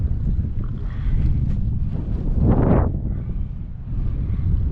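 Strong wind buffets the microphone in a steady low roar, rising and falling throughout, with one brief louder gust swelling in the middle.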